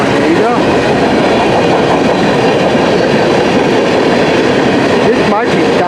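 A CN mixed freight train rolls past on the rails, loud and close, a continuous roar with rhythmic wheel clatter and brief squeals, holding steady throughout.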